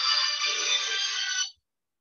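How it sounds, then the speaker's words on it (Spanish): A mobile phone ringtone goes off during a lecture on digital systems and cartography, a bright, buzzing electronic tone held steadily for about one and a half seconds before cutting off abruptly. "voy a callar mi celular"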